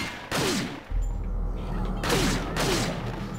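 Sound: gunshots from the video game Resident Evil 4

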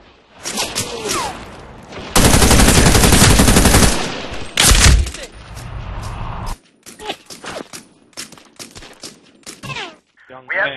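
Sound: gunfire from weapons in Medal of Honor: Warfighter video game

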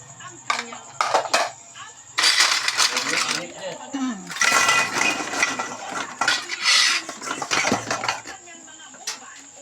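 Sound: washing dishes, clattering plates

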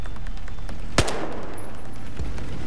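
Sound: machine gun fire in video game Battlefield 4

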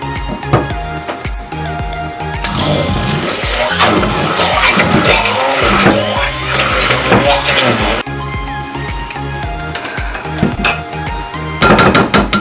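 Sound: immersion blender whisking cherry cake cream

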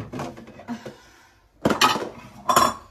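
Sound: handling Ikea dinnerware dishes

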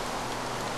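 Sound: rain from the video game Minecraft

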